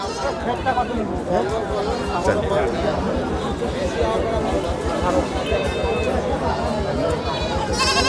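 Young local goats and kids bleat at the Dhelapir livestock market, their calls mixed into the constant chatter and babble of a busy crowd of buyers and sellers.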